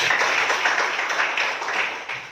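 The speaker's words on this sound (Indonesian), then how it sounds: "Baik, terima kasih tepuk tangan." Classroom applause rises as a dense, steady patter of many hands clapping at once, fairly loud and close, holding evenly before easing slightly at the end.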